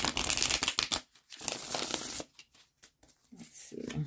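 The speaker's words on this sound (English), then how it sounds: "I will shuffle this deck back up before we jump into the next reading" A deck of tarot cards being shuffled up close, with crisp riffling bursts broken by short pauses and softer handling sounds toward the end.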